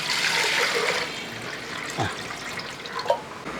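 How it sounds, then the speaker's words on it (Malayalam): Water pours into a steamer pot, a short gushing splash that fades into lighter trickles and a few small clinks, close and unaccompanied by talk. "ഒരു അപ്പച്ചമ്പ് അങ്ങോട്ട് വെച്ചിട്ട് കുറച്ച് വെള്ളം അങ്ങോട്ട് ഒഴിച്ച് കൊടുക്കുക"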